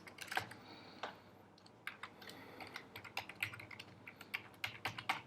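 Fast, irregular clicking of a computer keyboard as code is typed, with close, crisp keystrokes arriving in uneven bursts and no voices.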